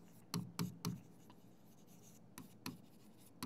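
A pen scratches notes by hand during a biology lesson, three quick strokes, a pause, then a few more, faint and close in a quiet room.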